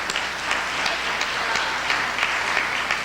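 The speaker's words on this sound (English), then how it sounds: "let's give ourselves a round of applause" Applause from an audience at a talk on Black women and white supremacy, a steady dense wash of clapping throughout, fairly loud with no other sound on top.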